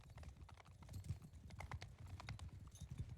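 Horse hooves clip-clop in Mount & Blade II: Bannerlord, a quiet, rapid, uneven stream of hoofbeats from several horses over a low rumble, with no talking.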